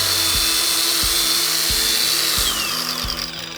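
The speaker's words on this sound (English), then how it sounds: "we run the grinder through all of the aluminium parts, followed finally by the steel structure" An angle grinder cuts through the aluminium and steel roof of an old horsebox trailer, a loud continuous whine with rhythmic low knocks, easing slightly toward the end.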